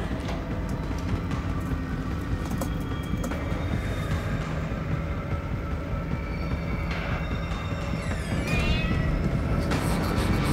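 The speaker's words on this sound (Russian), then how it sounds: "Кот мяукнул." Brief cat meow in the horror game Five Nights at Freddy's: Into the Pit, heard over a steady, droning ambient background with faint clicks and a short chirping squeak near the end.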